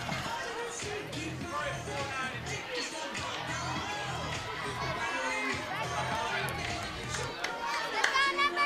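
A crowd murmurs and chatters steadily at a college softball game between UNLV and GCU, with scattered shouts and children's voices over a continuous busy din and no single cheer standing out.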